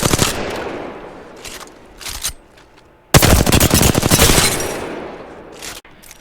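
R-301 rifle fire in the video game Apex Legends comes in loud, rapid automatic bursts: several short volleys early, then a longer sustained stream after a pause.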